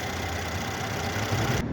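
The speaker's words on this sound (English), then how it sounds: "with the motor running, no concerns at all" A 2015 Mercedes C400 engine runs smoothly with dual exhaust, a steady loud rumble and hum that holds evenly throughout, heard up close with no one talking.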